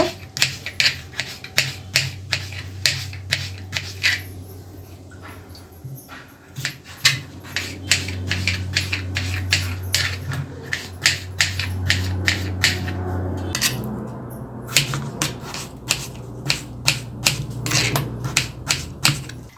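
A knife chops potatoes on a cutting board in a series of rapid, crisp taps, pausing briefly in the middle, with a low hum running underneath for much of the time.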